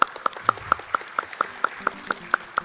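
Hands clap about a dozen times at a steady, even pace, each clap sharp and close, with faint sounds underneath.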